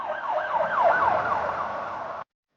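A police car siren wails in rapid rising and falling sweeps, fairly close and moderately loud, then stops suddenly; no one speaks over it.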